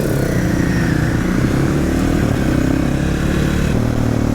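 A 2020 Sherco 500 SM single-cylinder supermoto motorcycle engine runs loud and close, a steady rough mechanical rumble with faint clatter that holds throughout.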